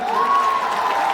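A crowd at a Bhojpuri stage show applauds for a singer, a short dense burst of clapping with a sustained tonal hum running beneath it.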